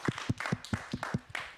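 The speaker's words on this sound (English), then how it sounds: "Can we have a round of applause for your teachers" Scattered clapping from a small audience applauding their teachers, a handful of distinct claps with uneven spacing, close and fairly clear.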